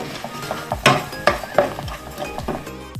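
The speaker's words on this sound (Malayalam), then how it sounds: "നമുക്ക് ഇഞ്ചി ഇട്ട് നല്ലപോലെ ഒന്ന് ഇളക്കി കൊടുക്കാം" Ginger being stirred in a pan for Motha fish pickle, with sharp spoon scrapes and clinks against the metal over a soft sizzle, repeated in an irregular rhythm close up.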